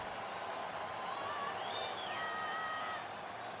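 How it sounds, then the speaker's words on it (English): A football stadium crowd at a Colts–Bengals game rises into a steady, broad roar, sustained and fairly distant, with faint whistle-like tones drifting above the noise. "Crowd rising to its feet."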